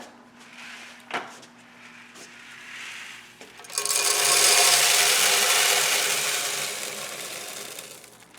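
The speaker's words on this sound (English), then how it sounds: "we're gonna start milling" A grain mill cranks up and grinds malt for a New England IPA homebrew batch, a loud sustained rattling grind that starts after a few seconds of quieter handling noises and clicks.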